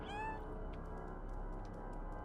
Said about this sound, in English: I assume this game is mostly about walking around and meowing.